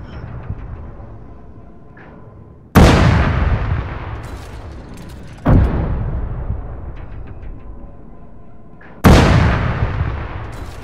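Tank battle in the Arma 3 video game: three loud, heavy cannon blasts at spaced intervals, each with a long rumbling decay, over a low background of distant firing.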